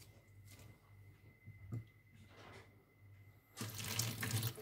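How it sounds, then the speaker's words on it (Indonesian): Mint cuttings are rinsed under a running kitchen tap, with quieter handling and brief splashes early on before the stream opens into a louder, steady gush of water toward the end; no one speaks. "Di bawah air mengalir"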